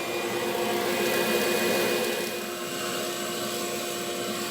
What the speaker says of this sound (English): But I'm going to vacuum this out now.